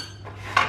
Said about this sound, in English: to stir in the butter